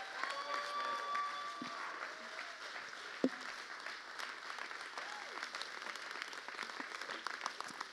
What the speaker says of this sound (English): give a big round of applause and honor to Stephen Bell as he comes again